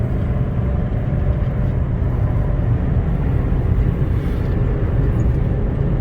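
A special edition Mercedes-Benz E300 diesel rolls downhill at about half throttle, giving a steady, dense low engine drone with road and wind rumble filling the cabin from start to finish, and no voices over it.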